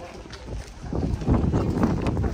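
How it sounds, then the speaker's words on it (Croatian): Wind gusts roar across the microphone in rough, rising bursts, with a faint splash of water beneath. "Hladan vjetar."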